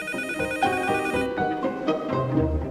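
A telephone rings with a repeated electronic melodic ringtone, loud and close, with no talking over it.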